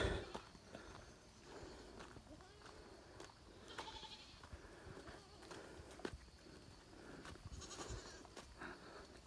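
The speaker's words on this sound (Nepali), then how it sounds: "ल बाख्रा चरायौँ यस्तो हुन्छ है" Goats grazing out in the open countryside, with occasional bleats and hoof clatter mixed into steady outdoor ambience, moderately near and without talk.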